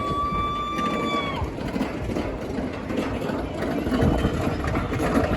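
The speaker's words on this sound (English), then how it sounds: "got the lift hill here, classic Aero chain lift." The classic Arrow chain lift hill of the Wild Thing looper roller coaster gives a steady, loud mechanical rumble and clatter throughout, with a brief tonal whine at the start.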